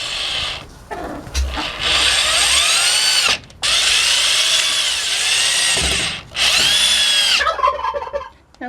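A power drill drives screws to fasten hinges onto wood for a turkey coop hatch door, the loud whirring bursts running long and steady with brief pauses between, while turkeys gobble nearby.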